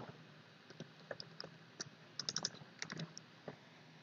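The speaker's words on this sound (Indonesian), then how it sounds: "Saya ketik" Keys clack on a computer keyboard as text is entered for a logo design in CorelDRAW, a quiet, irregular run of separate taps with a brief cluster of faster strokes midway.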